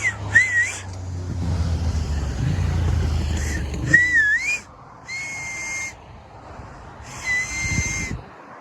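A person whistles several short melodic phrases with wavering, sliding pitches and pauses between them, outdoors at a campsite with low background rumble early on.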